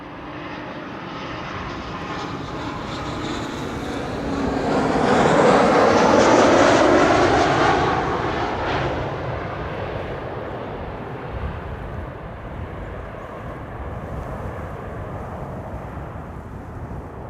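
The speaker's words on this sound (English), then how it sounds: "there it is, the Emirates A380" An Emirates Airbus A380 airliner passes near Amsterdam Schiphol Airport, its broad jet roar swelling to a loud peak midway and then slowly receding into a distant, steady rumble.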